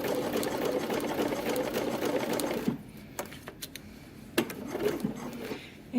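Sewing machine stitching a dress seam with a short backstitch, running steadily and fairly loud for nearly three seconds, then stopping, leaving scattered small clicks and handling noises.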